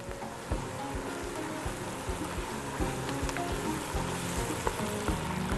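Onions sizzling steadily in a hot pan while cooking chicken mandi, a continuous crackling fry with scattered sharp pops, close and moderately quiet, with no voices.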